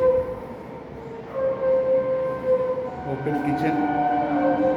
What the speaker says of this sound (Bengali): ইস্টার্ন রেল যাচ্ছে আর উপরে মেট্রো